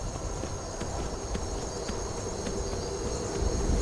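Horse hooves clip-clop in a steady, evenly spaced rhythm in the video game Skyrim, faint under a constant dense layer of ambient noise and insect-like chirring.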